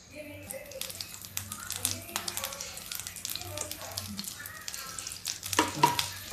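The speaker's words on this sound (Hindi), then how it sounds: "अब तेल गरम है, सबसे पहले इसमें जीरा पड़ेगा" Cumin seeds sizzle as they go into hot oil for dhaba-style palak dal, a steady frying hiss close by with crackles that swell near the end, while a voice talks over it.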